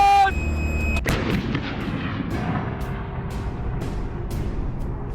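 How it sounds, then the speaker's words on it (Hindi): An army artillery gun fires a shell with one huge, sharp boom, followed by a long rumbling echo and faint distant thuds, loud and close, with no talking. "फायरिंग का ऑर्डर मिलते ही तोपची गोलों को छोड़ना शुरू कर देता है।"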